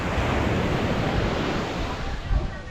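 Ocean surf breaking on White Beach at Puerto Galera, a white sand shore, heard as a continuous close wash of waves with wind buffeting the microphone.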